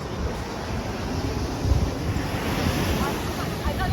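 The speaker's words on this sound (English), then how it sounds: "The thing about here is the waves are a bit strong." Strong ocean waves surge onto a beach at a cove near Baler, Aurora, a steady, loud roar of surf mixed with gusty wind buffeting the microphone, with no break throughout.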